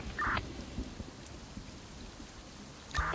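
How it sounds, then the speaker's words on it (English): Rain falls steadily in the video game Infection Free Zone under overcast skies, a soft continuous patter in the background, broken by a couple of brief sharper interface-like chirps near the start and end. "it is raining and overcast"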